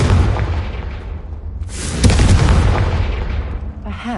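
Confringo fire spell blasts in Hogwarts Legacy: a loud, broad explosive whoosh swelling at the start, then a second sharp, bright burst that rolls and fades out, close and alone.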